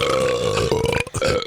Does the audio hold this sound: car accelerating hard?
no